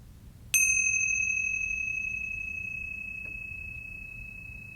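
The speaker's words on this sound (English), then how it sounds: "listening into the sound of the bell that will both open and close the practice" A single meditation bell struck once to open a practice, its clear ringing tone sustaining and slowly fading over several seconds, alone in a quiet room.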